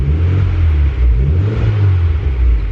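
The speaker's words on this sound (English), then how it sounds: "when I would rev it up" Turbocharged Honda Civic engine revving, a loud close rumble that rises and falls through a couple of throttle swells with no talk.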